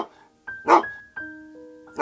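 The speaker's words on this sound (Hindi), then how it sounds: "फिर भौंक रहे वहां जाके" A dog barks once, sharp and fairly close, between stretches of a steady tonal hum, with another bark starting at the very end.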